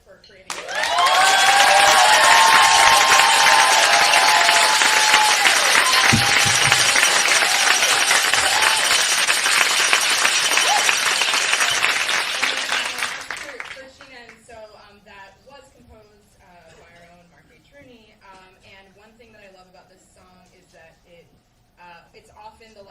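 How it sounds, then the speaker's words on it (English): An audience at a taiko recital and 10th-anniversary celebration gives Mark a loud, full round of applause lasting about thirteen seconds. It fades quickly, and a voice then speaks over a quiet room. "I guess applause for Mark for creating"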